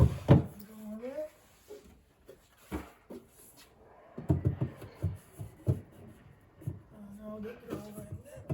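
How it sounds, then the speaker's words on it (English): Wooden drawer slid into a piece of furniture during flat-pack assembly, a few short knocks and scraping slides standing out against quiet room tone, with a person talking at times. "Now the drawer in there."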